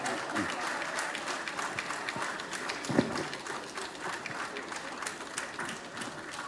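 Sustained applause from an audience honouring a Minister of Environment, dense and even clapping throughout with a crowd murmur underneath, fairly loud and continuous with no break.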